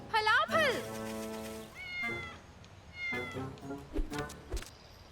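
A cartoon cat meows several times, rising and falling cries with a short caterwauling edge, loud and close, followed by lighter mews and soft background sounds.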